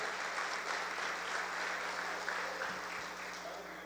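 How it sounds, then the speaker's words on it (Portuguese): A church congregation applauds during a service, a steady wash of many hands clapping, fairly faint and distant, with a few voices mixed in. "Aplauda o Senhor, irmãos."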